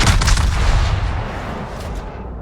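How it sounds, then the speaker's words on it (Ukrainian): The battleship Ohio fires a gun salvo in World of Warships, a loud, booming blast at the start that rolls into a long, fading rumble over about two seconds. "Його залп зносить нахуй"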